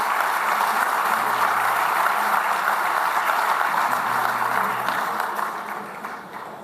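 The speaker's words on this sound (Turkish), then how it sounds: "güçlü güçlü bir alkış hepimizin iftar ettiği bir olay için" A large audience at a Galatasaray club event claps in a dense, continuous wash of applause that holds loud and steady before thinning out near the end.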